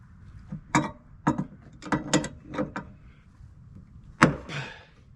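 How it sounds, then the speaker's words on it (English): Wrench lengthened with a pipe for leverage, working a boat's propeller shaft and cutlass bearing on a Pied Piper 28: a series of separate metallic clicks and ratcheting clanks, fairly close, with quiet gaps between. "I need a pipe on the end of my wrench. Get easier leverage here."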